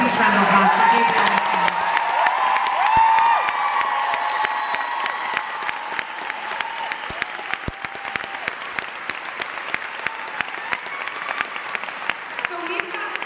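A theatre audience at a concert at the Queen Elizabeth Theatre gives a huge round of applause with cheers and whoops. Dense, loud clapping holds steady for over ten seconds, with voices over it early on.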